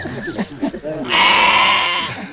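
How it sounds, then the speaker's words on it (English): A single loud sheep bleat rings out close by in Tanzania, following a moment of indistinct voices and handling noise. "they gifted us a sheep"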